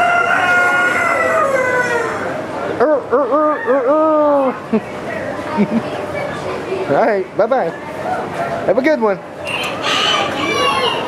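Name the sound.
roosters crowing at a fair barn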